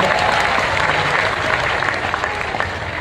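Audience applause at a national poetry gathering during the Jalore festival, a loud, dense and continuous clapping from a large crowd that holds steady throughout with faint voices underneath.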